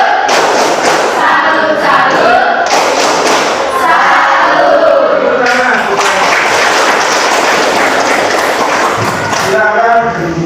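A school class doing the rhythmic tepuk semangat spirit clap, a loud, dense burst of many hands clapping together in patterned beats with group chanting mixed in, close and filling the room.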